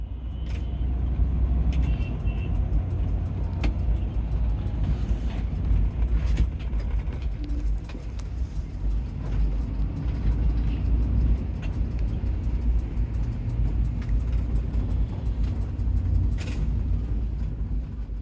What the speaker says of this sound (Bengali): এই বাসের ইন্টেরিয়র সাউন্ড কেবিন নয়েজ কতটা আসে সেটি বুঝতে পেরেছেন